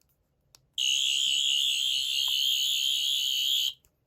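A loud, steady high-pitched electronic tone from a toy sonic screwdriver switches on abruptly, holds for about three seconds, then cuts off.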